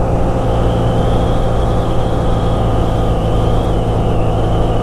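A BMW R nineT Scrambler motorcycle engine under way, a loud steady drone with a constant pitch and rushing wind noise throughout.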